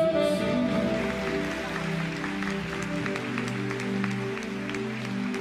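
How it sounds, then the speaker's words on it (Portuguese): A church congregation claps together in a steady wash of applause while music plays with sustained tones underneath, moderately loud and without talk over it. "Vamos aplaudir bem forte, Jesus."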